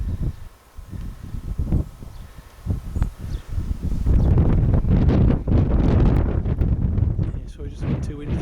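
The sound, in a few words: wind blowing outdoors at the coast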